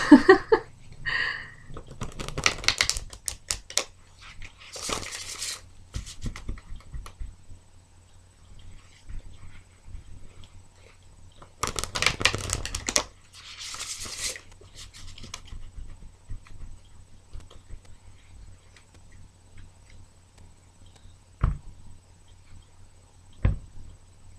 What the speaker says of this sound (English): I know it seems like this shuffling is taking forever,